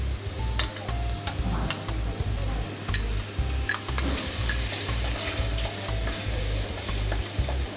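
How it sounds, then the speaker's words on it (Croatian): Onion and cuttlefish sautéing in a pan, a steady close sizzle with repeated stirring scrapes and light utensil ticks, plus a low rhythmic hum underneath. "Stavili smo pirjati luk. Zatim smo dodali meso sipe."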